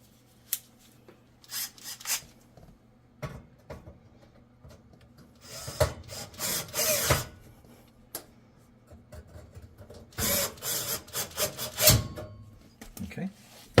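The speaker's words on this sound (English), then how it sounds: "I'm going to use a manual screwdriver just to get these started properly." Manual screwdriver turning screws into a Samsung oven during repair: intermittent scraping and clicking bursts, close and moderate in volume, separated by quiet gaps.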